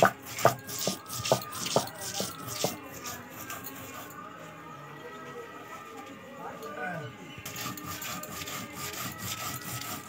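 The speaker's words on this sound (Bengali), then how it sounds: "কাঁচা লঙ্কা, সাদা সর্ষে আর পোস্ত আমি একভাবে শিলেতে বেটে নেব" Green chillies, white mustard seeds and poppy seeds are ground on a stone slab, with a run of rhythmic heavy rubbing strokes at the start, then softer, steadier grinding scrapes.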